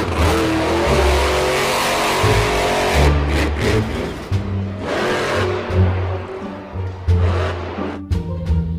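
A monster truck's engine revs and roars loudly nearby, surging and dropping in repeated bursts with brief pauses between.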